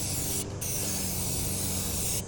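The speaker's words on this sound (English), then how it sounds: "so I can spray right up in there" A handheld paint sprayer fires into grooved surfaces outdoors in light wind, a loud, steady, close hiss running almost unbroken, with two brief dips where the spray cuts out for an instant.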